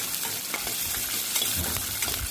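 About twenty garlic cloves sauté in a pan for vendakkai puli kuzhambu, producing a close, steady sizzle with quick stirring scrapes throughout the short stretch.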